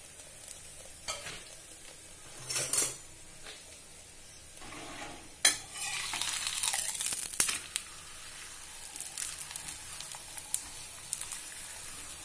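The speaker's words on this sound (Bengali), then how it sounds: "এখন হালকা করেই আমি এগুলোকে ভাজবো, খুব একটা ভাজবো না" Chicken roll filling frying lightly in a little oil: a soft, intermittent sizzle under stirring, with scattered scraping and rustling bursts from a spatula, fairly quiet and close, no speech.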